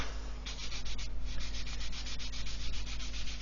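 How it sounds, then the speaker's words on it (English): A clear plastic part from an Airfix 1/24 F6F-5 Hellcat model kit is sanded in quick back-and-forth strokes, a soft rhythmic scratchy rasp repeating close up and quiet, with no voices. "I'm just going to keep sanding"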